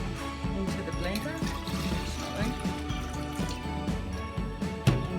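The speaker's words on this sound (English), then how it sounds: "we're going to put half of this water into the blender" Water pours steadily into a blender with a continuous splashing, trickling wash, close up, with a few small knocks and clatters along the way.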